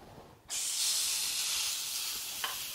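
Steady, loud sizzling and hissing bursts in abruptly and holds as steak sears on a very hot Aga boiling plate, with a small clink near the end.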